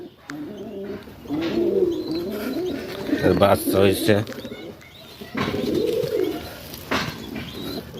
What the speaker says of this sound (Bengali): সব প্রজাতির কবুতরই আছে এখানে।